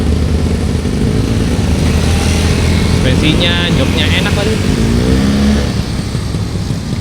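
An old Vespa scooter with an automatic transmission runs with a steady, throaty engine drone close by, holding a constant rumble throughout while someone talks over it.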